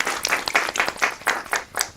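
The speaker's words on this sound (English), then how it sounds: "Yes, you can give her a round of applause." Seminar audience claps as a presenter from the accounting department walks to the podium; a few nearby hands give a short, uneven run of distinct, loud claps close to the listener.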